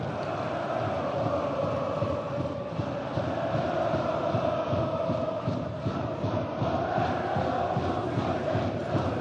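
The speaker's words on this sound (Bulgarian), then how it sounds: "А публиката на Локо Пловдив буквално полудя." Lokomotiv Plovdiv football fans roar in a stadium, a dense continuous crowd din of shouting and chanting that stays loud and unbroken throughout.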